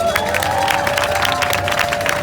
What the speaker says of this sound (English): Round of applause again for Paus and Ndidi Cascade, the performers.